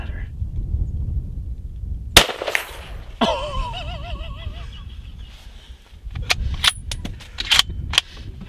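Rifle gunshot fired at a doe while deer hunting outdoors: one sharp, loud crack followed by rolling echo, set against quiet surroundings, with later smaller knocks and clicks and a faint whistle-like tone after the shot.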